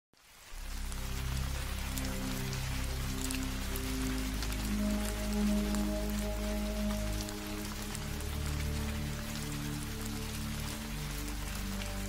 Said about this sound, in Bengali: আকাশ মেঘাচ্ছন্ন হয়ে আছে, গুড়ি গুড়ি বৃষ্টিও পড়ছে।